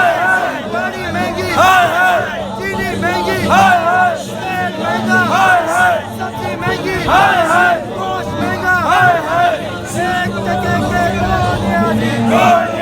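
Large crowd of party workers at a protest in Karachi's Empress Market area chanting slogans against the government, loud rhythmic massed voices rising and falling continuously.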